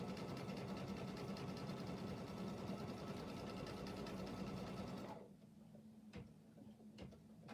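A sewing machine stitches embroidered letters in a fast, steady mechanical whir with close rapid ticking, then stops after about five seconds, leaving quiet with a few light clicks.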